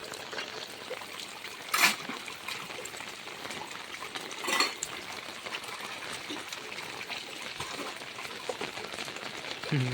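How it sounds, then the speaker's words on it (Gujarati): Heavy, steady night rain with water trickling and dripping, a constant wash of noise broken by two brief louder splashes. "ગાઈસ વરસાદ આવી ગયો છે ફૂલ ફાસ્ટ"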